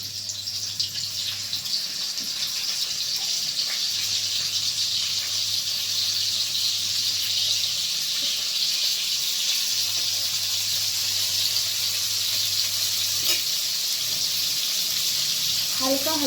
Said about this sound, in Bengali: বন্ধুরা, কড়াই তেল গরম হয়ে গেছে, এবার পনিরগুলো আস্তে আস্তে তেলে ছেড়ে দিতে হবে।